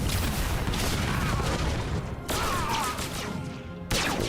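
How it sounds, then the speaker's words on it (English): Rockets fired by a bounty hunter in Star Wars: The Old Republic, a dense loud barrage of bursts and crashing impacts over a busy game soundscape, with abrupt breaks between volleys. "And hit him with some rockets."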